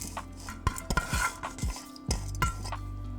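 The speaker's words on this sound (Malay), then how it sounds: "Bila dah siap, toskan beras tu guna penapis supaya lebihan air tu keluar." Washed rice being drained through a strainer in a home kitchen, with repeated metallic clinks and knocks of the strainer against a pot, rustling grains and a brief trickle of water, close and clear, no talk.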